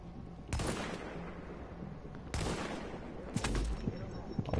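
Sniper fire in Tom Clancy's The Division: two loud, sharp cracks each followed by a rolling echo, then a cluster of smaller reports close together, over steady background noise.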